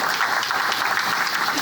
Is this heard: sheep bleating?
no